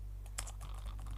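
Soft, quick keystrokes on a computer keyboard as a Windows 10 command is typed, a faint, close run of uneven taps with no talking.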